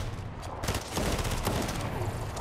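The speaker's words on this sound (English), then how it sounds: "Oh, I'm getting shot." Rapid bursts of video game gunfire hit the player during a Fortnite Zero Build match, loud and continuous across the whole moment, a dense close volley with no talking over it.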